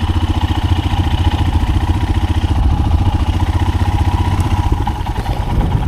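A Royal Enfield Himalayan motorcycle is ridden in heavy rain, its single-cylinder engine thumping in a loud, steady, close rhythm under constant wind and road noise.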